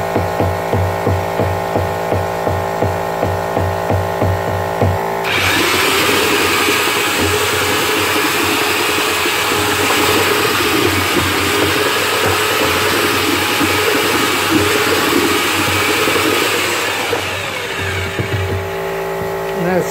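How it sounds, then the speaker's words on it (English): An aircrete mixer runs a batch as a loud continuous motorized churn with a low rumble. Rhythmic mechanical pulsing comes before it starts, and the sound eases near the end. "I gotta mix another batch."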